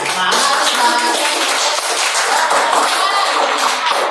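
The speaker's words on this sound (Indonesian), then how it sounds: "Betul ya, tepuk tangan dong" A school class claps hands together in a classroom, loud and close, with a dense, continuous patter of many hands and children's voices mixed in throughout.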